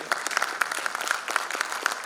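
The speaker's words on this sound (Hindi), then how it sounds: "तालियां बजनी चाहिए" A lecture-hall audience at a homoeopathy conference breaks into applause. Sharp, distinct claps ring out at a fairly steady rhythm, close and clear, and no voices are heard over them.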